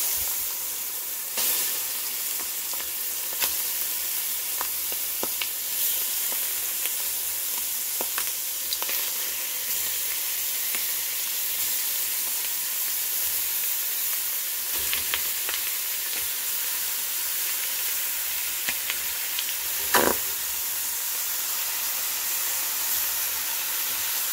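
Meat sizzles steadily in caramelized sugar, a continuous bright hiss with scattered soft pops and occasional stirring scrapes, close up and with no talking.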